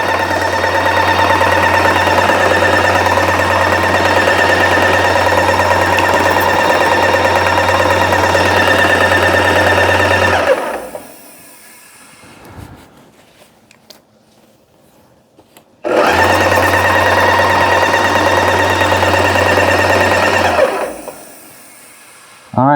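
A paint sprayer pump runs primer through its hose and spray gun for cabinet refinishing, a loud continuous mechanical drone and hum that stops for several seconds and then starts up again at full strength.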